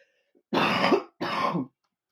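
Two harsh, raspy coughs from a lingering cough, close up, separated by a brief pause, with no talking.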